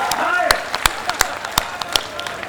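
Scattered, uneven hand claps from an audience at a Hindi comic poetry recital, a handful of distinct sharp claps spaced irregularly, with a voice speaking at the start.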